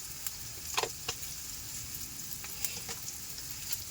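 Whole cumin seeds and panch phoron fry in hot oil for a village-style vegetable dal, giving a faint, steady sizzle with a few soft crackles and pops close by, with no talking.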